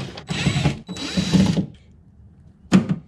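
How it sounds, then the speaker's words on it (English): Impact driver fitted with a 10 mm socket backing out the bolts on a 3rd-generation Toyota Tacoma Access Cab door speaker, giving two close, loud rattling bursts with a short third burst after a pause. "Now I'm gonna take my 10 millimeter socket on the end of my impact driver and remove the bolts."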